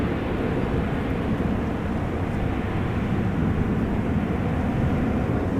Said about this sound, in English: This is a KLM B739 on its way to Gdansk